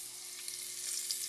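Garlic and ginger fry in a pan with a steady, moderately loud sizzle and a faint stirring texture, lasting only briefly.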